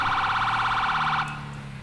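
A police car siren in the FiveM GTA game wails in a fast, steady warbling pattern, loud and close, then cuts off abruptly, leaving a low engine-like hum and a couple of faint clicks.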